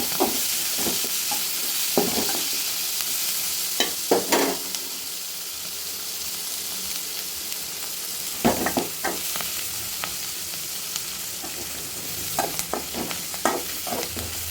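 Veld grape (pirandai) chutney ingredients, including garlic and dried red chillies, are stir-fried in a pan with a continuous sizzle, while repeated sharp scrapes and knocks of a spatula come and go.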